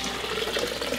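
Distilled water is poured into a bottle, a short, soft, steady trickling and filling sound heard close and alone.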